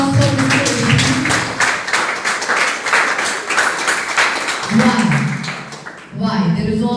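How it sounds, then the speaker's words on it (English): A classroom audience gives a presenter a round of applause after a team presentation on management principles. Loud, brisk clapping carries on for several seconds, with voices speaking over it and a brief pause near the end. "huge round of applause for Mr. Ishmi"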